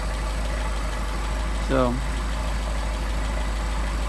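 A Mercedes 190SL engine with Solex carburetors idles steadily and close by in a continuous low rumble throughout, while someone briefly speaks a single word over it midway.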